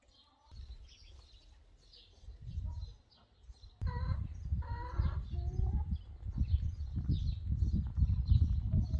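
Chickens cluck and chirp in short bursts around a home garden farmyard, with scuffling and handling noise growing louder partway through.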